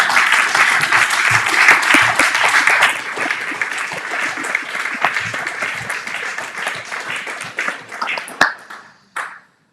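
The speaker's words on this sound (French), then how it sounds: "Acclamons tous le Seigneur." A church congregation applauds in praise of the Lord, with loud, full clapping at first that thins into scattered claps and fades to silence.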